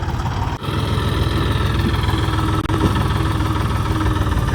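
A tractor engine runs at a steady idle while a loader fills it with manure on a farm. The low, throbbing drone is loud and close, with two brief dips in the rumble.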